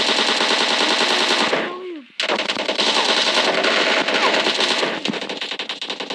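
Sustained automatic gunfire in the mobile game PUBG Mobile Lite, loud and continuous rapid bursts that break off briefly near the middle and then resume, with the shots thinning out toward the end.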